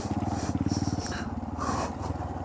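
Air-cooled Honda Monkey motorcycle engine while riding at low speed, a close, steady putter with a rapid pulsing rhythm that holds through the short stretch, with no talking.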